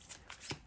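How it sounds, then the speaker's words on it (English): A deck of oracle cards being shuffled by hand, with quick papery riffles and slaps in a few short bursts, close and fairly quiet. "I'm being called to kind of shuffle them and then split the deck"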